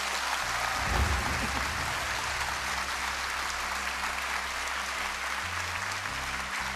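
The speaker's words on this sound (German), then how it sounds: "Applaus" Studio audience applause on a German kids' quiz show, a dense steady wash of clapping that holds at even loudness for several seconds with a brief swell near the start.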